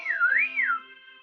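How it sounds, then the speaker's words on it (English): A single clear whistle in the video game Choices: The Freshman, a sliding tone that dips, rises and falls again, heard alone and fairly loud. "Spud notices your boots and lets out a whistle."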